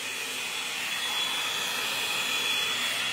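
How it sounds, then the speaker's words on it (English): A hair dryer blows steadily at close range, a loud continuous whoosh of air with a faint high whine and no talking over it. "my hair dryer is heating it up"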